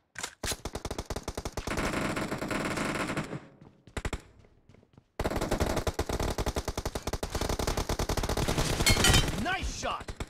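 Rapid automatic gunfire bursts in PUBG Mobile, loud and dense with sharp repeated cracks, pausing briefly midway before resuming in sustained volleys, with a voice talking underneath.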